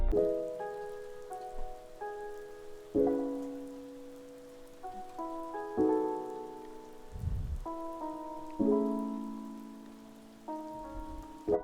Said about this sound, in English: I just found this rain and turn it down a bit,